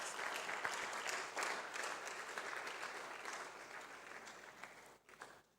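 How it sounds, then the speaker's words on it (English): Audience applause at an academic publishing studies colloquium, fairly distant and steady for about five seconds before thinning out and stopping, with no voices over it. "let's give them a round of applause"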